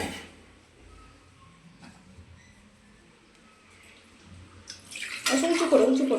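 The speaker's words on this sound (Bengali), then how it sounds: "ও মগে করে জল দাও তো" Water poured from a mug in a kitchen on a rainy day, a sudden loud splashing pour in the last second, preceded by quiet room noise with faint clinks.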